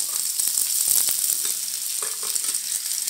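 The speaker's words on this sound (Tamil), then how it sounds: "நல்லா வதக்கிடலாம்." Large onions sizzle and crackle steadily in hot oil for a red chilli chutney, with occasional stirring scrapes; no voices.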